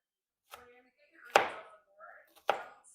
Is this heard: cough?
no